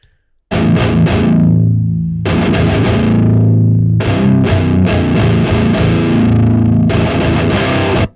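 A loud, distorted electric guitar through an amp's lead channel with some gain, miked with an SM7 dead center on the cone, plays sustained chords in several bursts with brief gaps, thick and saturated, with no voice.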